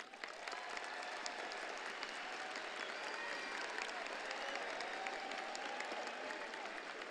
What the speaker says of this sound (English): let's give a great round of applause for the proud members of the Golden Grad class of